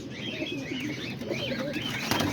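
Pigeons coo in a steady, close series of soft repeated calls at a backyard loft during feeding time, with faint chirps and a brief flutter of wings near the end.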